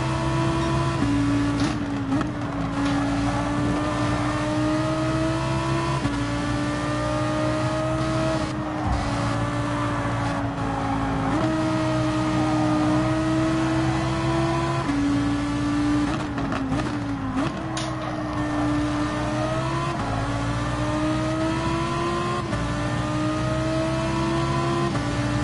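Ferrari race car engines whine continuously in a Gran Turismo 7 race at Fiji speedway, with steady, loud, close engine tones that rise and dip in pitch as the cars shift and accelerate throughout.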